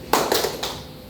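A classroom group claps together in a few short, muffled bursts close by, with no talking.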